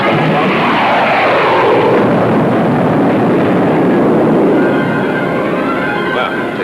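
A spaceship weapon fires at a target in a 1950s sci-fi film, heard as a loud, sustained roaring rush of sound that swells and then eases, with no voices over it.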